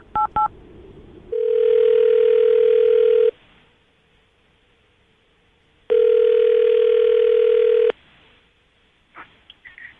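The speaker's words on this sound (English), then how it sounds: "I'm going to dial the phone number" A landline telephone is dialed, opening with two quick keypad beeps, then a steady ringback tone sounds twice in long bursts separated by a pause, and a faint click follows at the end.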